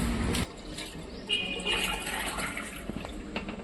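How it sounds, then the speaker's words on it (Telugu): Water poured from a jug through a funnel into the salt compartment of an IFB Neptune FX14 dishwasher, a steady close trickling splash running for several seconds. "ఫస్ట్ టైం కాబట్టి నేను వాటర్ పోస్తున్నానండి"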